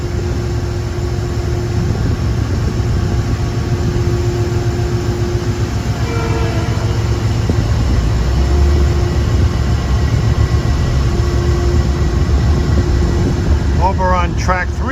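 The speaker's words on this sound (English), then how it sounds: "a couple of North White Plains bound trains coming in" Commuter trains bound for North White Plains roll into a station, a steady loud rumble of wheels and engines lasting throughout, with a brief tonal horn-like note midway and squealing brakes near the end, under people talking.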